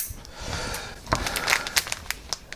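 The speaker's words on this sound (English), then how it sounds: "My big scissors." Big scissors snipping parts from a silvery grey plastic model kit sprue, a few sharp crisp snips and crackles at close range after a quieter start.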